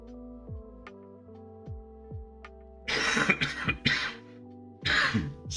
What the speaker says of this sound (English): If I'm coughing down the microphone